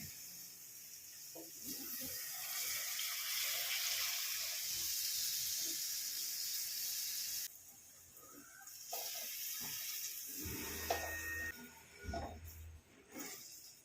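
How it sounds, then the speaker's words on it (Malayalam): Squeezed tamarind water poured into a hot pan of Kerala-style okra curry, giving a steady close hiss and sizzle for several seconds before it fades into scattered clinks and kitchen knocks. "ഇനി അതിലേക്ക് ഈ പുളി പിഴിഞ്ഞത് ഒഴിക്കാം."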